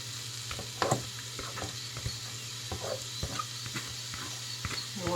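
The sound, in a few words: leeks sauteing in salted butter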